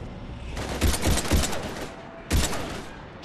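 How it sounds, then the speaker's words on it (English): Video game gunfire from Mass Effect 3 on Xbox 360 crackles in rapid bursts during a combat scene, with two loud volleys separated by a short gap. "We're taking heavy fire."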